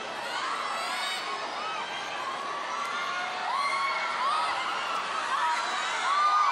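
A large indoor fan-event crowd in the Philippines screams and cheers continuously, a dense wash of high-pitched shrieking voices that swells slightly toward the end.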